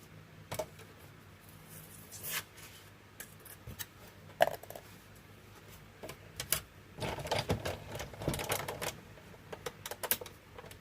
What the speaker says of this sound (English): I'm going to cut a smaller one in a piece of scrap white.